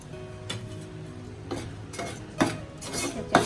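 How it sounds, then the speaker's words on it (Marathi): Moong and ragi flour roasting in a pan for laddoos, with a spoon scraping and stirring in irregular strokes and occasional clinks over a low background, close by. "आता आपण असं सगळं पीठ भाजून घेणार आहे"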